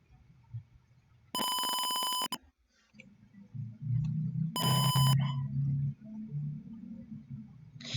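A buzzer in an I2C temperature circuit beeping in two long, loud electronic tones separated by a pause, with low rumbling background noise between and after them, no voices.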